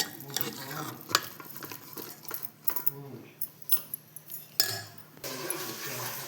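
Cooked rice and lentils being stirred together in a pan for kara pongal, with scraping spoon strokes and clinks at an uneven pace over a light background sizzle, close by and moderately loud, no speech.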